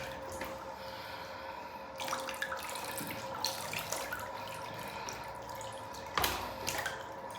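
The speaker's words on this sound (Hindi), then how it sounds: "ल्यूक वार्म वाटर से नहाना चाहिए" Lukewarm water runs steadily while a Shih Tzu dog is bathed, a soft continuous trickle with occasional splashes and louder spurts, heard alone at low level.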